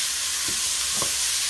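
Ingredients for a sausage and potato stew being stirred in a hot pan, a dense steady sizzle with a couple of soft utensil knocks partway through.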